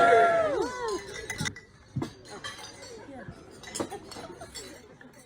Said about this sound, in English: let's raise our glasses and drink a toast to Jamie and Alex Weinberg